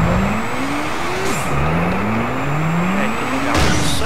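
Drift car engine in the video game GTA San Andreas, a steady droning motor whose pitch climbs, drops and climbs again as it revs through gears, continuous and fairly loud with no talking.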